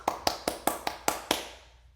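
Seven sharp hand claps ring out alone at a steady, even rhythm, close and crisp, each one followed by a short decaying tail, then the sound fades into silence.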